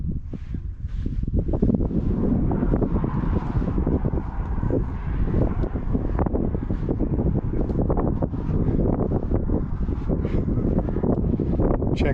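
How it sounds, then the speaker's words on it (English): Strong wind rushes steadily through natural sand cave formations near Kanab, the air funneled through narrow passages into a loud, continuous roar with gusty buffeting against the microphone. "There's a lot of wind through here. The air gets funneled through here."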